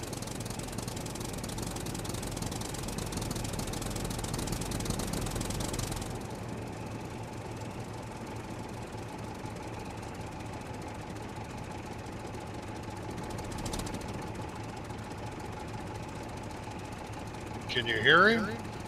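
A tractor engine runs in the survival video game Scum as a steady, low, droning idle. It holds evenly throughout, eases slightly partway through, and is followed by a short louder burst near the end.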